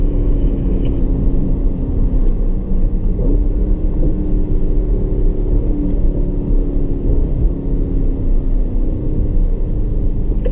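A Porsche Panamera GTS on a racetrack, its engine droning loud and close with a steady, shifting pitch as it accelerates and brakes, under heavy wind rumble and with no voices.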